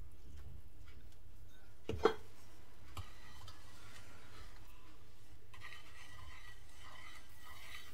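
Sugar being stirred into liquid, faint and quiet swirling with a couple of light clinks of a spoon early on, then a soft continuous rustle.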